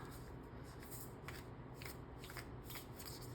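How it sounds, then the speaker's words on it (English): Tarot cards being shuffled by hand, a soft close-up riffle of repeated papery flicks in a quiet room, with no voices. "I'm just gonna shuffle through and see if I feel"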